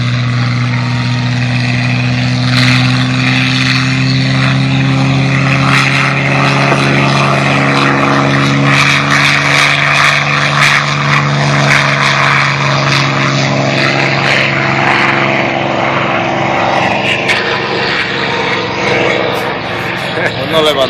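Twin 2,600-cubic-inch air-cooled 14-cylinder radial engines of a B-25 bomber at an airshow drone loudly and steadily for the whole stretch, a throbbing propeller hum with shifting harmonics and no talk over it.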